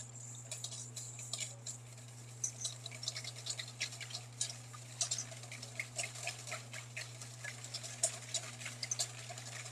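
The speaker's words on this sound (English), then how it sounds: "whisk it up real nice like that" Lemon juice, vinegar and egg yolk are whisked briskly in a bowl for bearnaise sauce, giving a steady, rapid scratchy clatter over a low constant hum.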